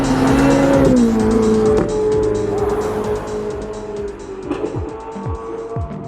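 Ferrari 488 GTB with its twin-turbo V8 driven hard, the engine note rising and falling through gear changes with brief tire squeal, loud and close throughout with no talk.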